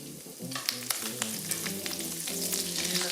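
Butter sauce with cilantro sizzles steadily in a frying pan, a bright crackling hiss with occasional pops and stirring, close up and continuous.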